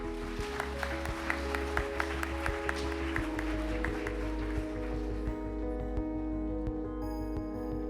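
Applause from the audience at a Seoul ceremony commemorating the May 18 Democratic Movement, scattered claps running for several seconds at a moderate level before thinning out, with a steady tonal background hum throughout.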